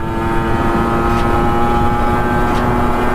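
A Kawasaki 150 motorcycle engine holds a steady, loud droning hum while riding, with a strong tonal whine and constant rumble throughout and no talk.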